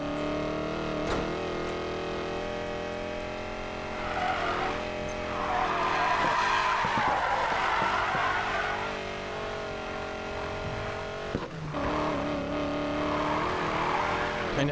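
A car drifting in the racing game Need for Speed Payback: a continuous engine drone with sustained tire squeals and skidding rising through the middle, a brief dip, then more screeching, loud and close with no talk.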